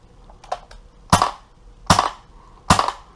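A WETech G36C gas blowback airsoft rifle fires three sharp, loud single shots about 0.8 seconds apart, each with a short gassy burst and a bolt clack. Fainter mechanical clicks come before the first shot.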